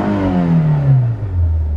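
A 2004 Nissan Sentra 1.8 liter engine on a very cold start revs up and winds down, a loud, close, falling whir lasting under two seconds.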